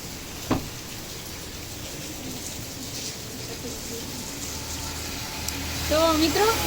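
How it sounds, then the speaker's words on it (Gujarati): Rain begins falling in a village during the monsoon, a soft steady patter and hiss that carries on throughout, with a faint voice near the end. "વરસાદ ચાલુ થયો, આજે આખો દી પોરો ખાધો ને અત્યારે ચાલુ થયું."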